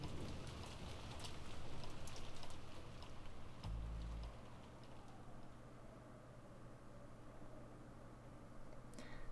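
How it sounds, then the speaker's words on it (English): Steady rain and wind in the visual novel Umineko no Naku Koro ni, a soft continuous hiss of falling rain with gentle gusts, faint and unbroken with no voices. "In fact, the rain and wind felt even noisier now."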